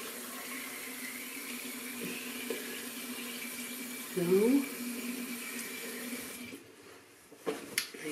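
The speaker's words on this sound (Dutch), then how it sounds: "Dus gebruik lauwwarm water omdat de poriën dan altijd wel beter open gaan staan." A tap runs lukewarm water for rinsing at a sink. The steady, close hiss carries on for several seconds, with a short spoken word from a woman partway through before the flow tapers off.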